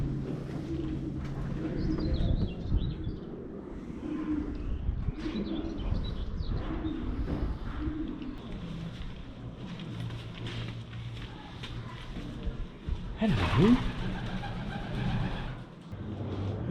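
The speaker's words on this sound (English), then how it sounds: "Two pigeons nesting." Pigeons nesting at the ruins of Kenilworth Castle coo softly in low, repeated calls, with a few chirps, distant traffic and people talking quietly nearby.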